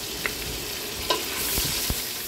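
Garlic sizzles in melted butter in a pan for a creamy spaghetti, a steady close hiss broken by a few soft stirring taps.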